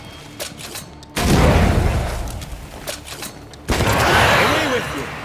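Gunfire in Banishers: Ghost of New Eden, two loud heavy bursts a couple of seconds apart, each followed by a rumbling decay and layered over game ambience.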